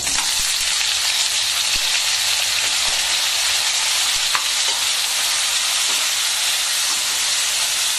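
Tomatoes frying in hot oil give a continuous loud sizzling and crackling, a dense steady hiss with occasional pops.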